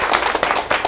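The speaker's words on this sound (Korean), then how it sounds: "박수 한번 주세요." Brief burst of applause from a lecture audience welcoming a speaker, dense overlapping claps filling the moment with no voices.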